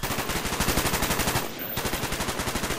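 Sustained automatic fire from an RPK light machine gun with a drum magazine in the PC shooter Call of Duty: Black Ops, a rapid, even rhythm of loud close shots that breaks off briefly near the middle and then resumes.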